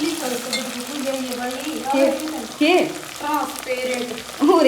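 Potatoes and onion fry in a pan for a home-cooked vegetable dish, a steady sizzle with scraping stir strokes, close and fairly loud, while someone talks over it.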